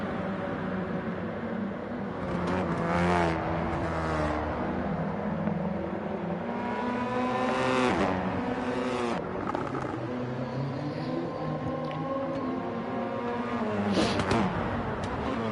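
GR4 race cars scream down toward a chicane, engines rising and falling through gear changes and downshifts, with several distinct passes swelling loudly then fading, and no voices present.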